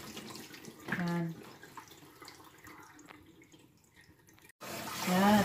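Tap water runs over fresh garlic scapes being washed for a Korean stir-fried side dish; a loud, steady rush of water starts abruptly near the end, after quieter kitchen sounds and a brief voice.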